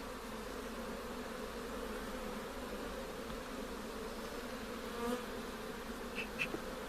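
Dense, continuous buzzing of many honeybees close by at a hive, a steady droning hum with a few louder passes near the end.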